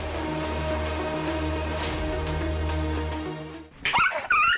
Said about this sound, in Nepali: कसको कुकुर रहेछ, खोइ टोकेर भाग्यो